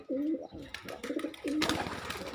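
Pigeons coo nearby in a few throaty, rolling calls, the last one louder and overlapping with brief noisy rustling.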